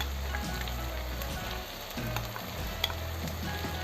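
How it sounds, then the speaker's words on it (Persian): Meat seared hard over high heat in a pan while cooking a traditional Ardabil stew, a loud, steady close-up sizzle with bursts of crackle as it is stirred and turned, no voices. "با حرارت بالا حسابی تفتش میدم گوشتمو"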